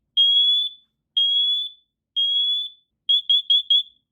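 Three long, piercing alarm beeps sound evenly, followed by a rapid burst of four shorter beeps from a nearby Siterwell smoke and carbon monoxide detector being tested.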